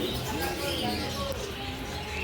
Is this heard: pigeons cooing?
yes